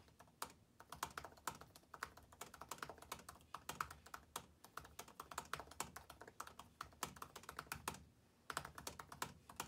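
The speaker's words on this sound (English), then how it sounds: "just so you can understand just how loud and tactile the keys are, just how clicky they can be" Continuous typing on a late 2017 MacBook Pro laptop keyboard in a very quiet room: rapid, irregular clicky keystrokes with occasional louder presses and brief pauses, fairly soft and close.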